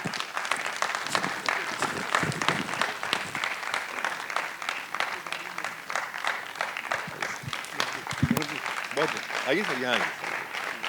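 An audience claps loudly and continuously to welcome performers onto a theatre stage, the applause steady throughout while someone speaks over it close to the microphone.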